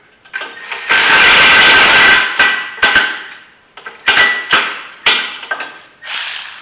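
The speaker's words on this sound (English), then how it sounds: "go ahead and put it on our electric ratchet" A cordless electric ratchet removes brake bolts on a 2012 fifth-generation Camaro. It makes a loud, close whirring burst of about a second, followed by a series of short, sharp buzzing pulses as the bolts spin out.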